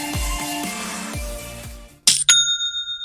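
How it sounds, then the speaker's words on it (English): Shopify sale notification: a bright chime rings once near the end, right after background music cuts out, with a short doubled ding that lingers as a clear ringing tone. "It's the sound of another sale on Shopify."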